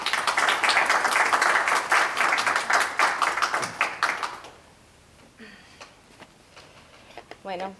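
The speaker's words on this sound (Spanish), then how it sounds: "Un aplauso para esta joven cubana." An audience at a Cuban PEN Club literature panel applauds loudly for a young Cuban speaker, dense clapping filling the first four seconds before fading to a few scattered claps and quiet room noise.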